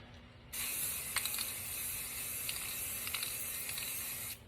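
A spray gun hisses steadily for about four seconds while painting a tumbler, starting abruptly and cutting off, with a few faint clicks along the way.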